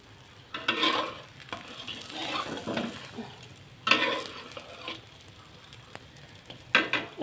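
An onion omelette fries over high heat in a pan until it starts to burn, giving a steady close sizzle and crackle with occasional louder spatters and scraping stirs, no talk.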